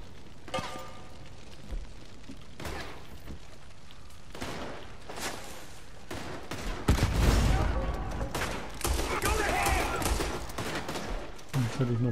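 Gunfire bursts in Red Dead Redemption 2 Online during a bounty hunter mission, sharp shots and rapid volleys cracking irregularly over roughly twelve seconds, heaviest toward the middle and end.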